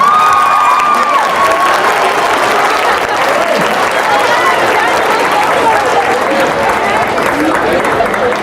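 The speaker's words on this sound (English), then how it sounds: "you just stand up on your feet and applaud for what you're doing" A career day audience applauds and cheers in a large hall, loud sustained clapping with shouts and whoops continuing throughout.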